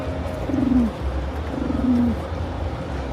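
A person imitating pigeon cooing at Pigeon Fest in rainy New York City: two clear, low, drawn-out coos about a second apart, loud and close over faint street background.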